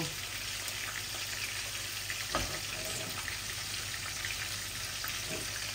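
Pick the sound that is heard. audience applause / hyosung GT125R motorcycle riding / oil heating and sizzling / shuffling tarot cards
oil heating and sizzling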